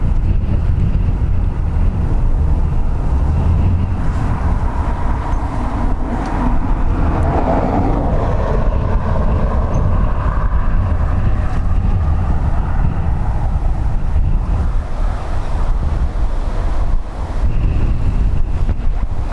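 Strong gusty wind rushes steadily at Dublin Airport, blowing at around 19 knots with gusts up to 30 knots, and a broad, continuous roar buffets the microphone.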